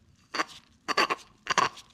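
A worn bearing on a Minneapolis Moline A4T tractor gives three rough grinding bursts, each short and close, separated by brief quiet gaps.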